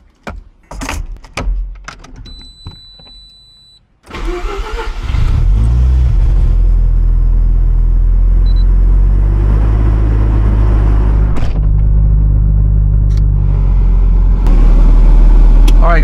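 A Mazda RX7 FC3S with a new short shifter, heard from inside. After some brief handling noise the rotary engine starts up into a loud, steady drone that holds to the end.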